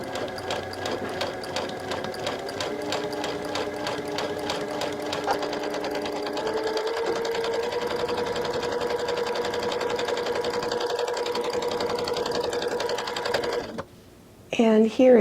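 Sewing machine running steadily while stitching the lower hem of a circle skirt, a continuous rapid mechanical whirr and needle patter lasting nearly the whole stretch, stopping briefly near the end, with a voice talking faintly underneath.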